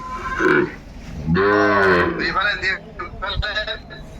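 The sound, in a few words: Sahiwal bull calves mooing before loading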